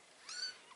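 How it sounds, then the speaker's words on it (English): A kitten gives a single short, faint meow, a thin high cry lasting under half a second against a quiet room. "The first thing I got was Winnie Winston, a little cute cat."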